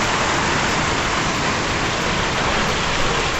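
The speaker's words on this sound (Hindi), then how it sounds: "इतनी खतरनाक बारिश शुरू हो गई है ना, कुछ भी नहीं दिख रहा पार्क का एरिया।" Heavy monsoon rain pouring down over a park area in the Himalayas, a dense, steady roar of hiss with no breaks or voices.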